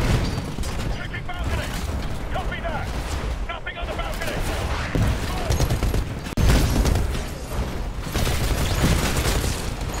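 Video game gunfire, with dense bursts of shots and booms layered over constant battle noise, loud and sustained, while players talk over it throughout.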